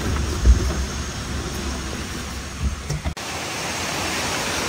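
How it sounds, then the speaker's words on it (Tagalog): Rushing water at Tagbi Binta Falls, a steady broadband roar of the waterfall close by, loud and unbroken with a brief thump partway through. "Tingnan mo guys, oh, ang ingay ng tubig."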